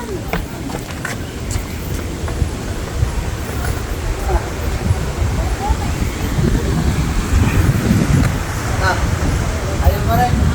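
Wind gusting outdoors in Keelung, Taiwan, near a waterfall, a steady buffeting roar across the microphone with faint voices talking underneath.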